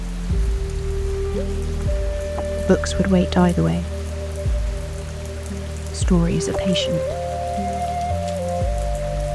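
Steady rain pattering on a window, a soft continuous hiss beneath a calm narrating voice and gentle sustained music tones.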